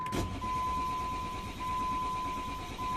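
Jeep Grand Cherokee 3.0 CRD diesel with a hard-starting fault, heard as a brief cranking burst at the onset that settles into a steady engine running, with a constant tone throughout.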